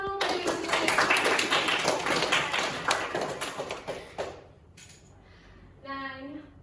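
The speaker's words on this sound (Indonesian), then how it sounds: "Kita beri tepuk tangan dulu bagi Yuni" A small classroom group claps for a student during a micro-teaching lesson on descriptive text. The applause is brisk and close for about four seconds, then quickly fades out, and a voice speaks afterward.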